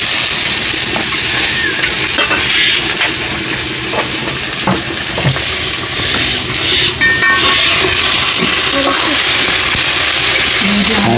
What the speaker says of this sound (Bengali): কড়াতে পেঁয়াজ দেওয়া আছে তেল দিয়ে এটাকে ভেজে নেবে লাল লাল করে ভেজে নেবে